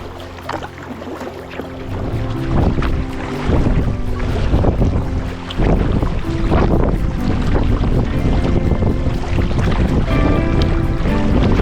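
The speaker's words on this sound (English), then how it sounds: "There's that wind, thank goodness it's behind us." Wind blowing steadily on a river while kayaking, a loud continuous rush with buffeting on the microphone, alongside the low knocks and splashes of a boat on the water throughout.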